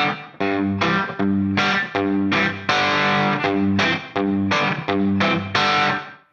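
Distorted electric guitar chords ring out in short bursts, alternating with a chugging, slightly muted open G root note in a steady driving rhythm.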